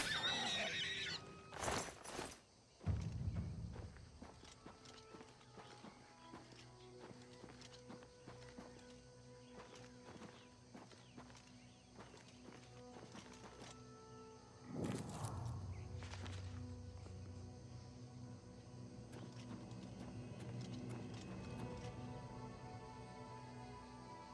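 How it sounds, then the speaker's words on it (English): A horse walks along in the video game Oblivion Remastered, with soft hoof clip-clops sounding faintly over ambient background, plus a couple of brief louder bursts. "Why are you obsessed with my horse, dude?"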